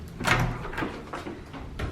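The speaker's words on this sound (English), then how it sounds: "so here's the main door. You walk in." The main door of a Las Vegas hotel suite opens, a few soft thumps and a sliding, rustling swish spread across a couple of seconds, with handling noise nearby.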